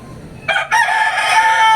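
A rooster crows loudly and close by in a single long, strident call, its cock-a-doodle-doo rising abruptly and holding strongly to the end.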